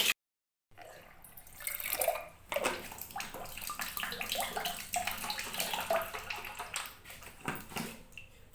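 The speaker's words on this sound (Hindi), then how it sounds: "अभी ठंडा पानी आ रहा है, थोड़ी देर में गर्म पानी आना स्टार्ट हो जाएगा" Tap water gushing steadily into a tub or basin at home, cold water flowing before the hot arrives, loud and close with splashing variations and no talk.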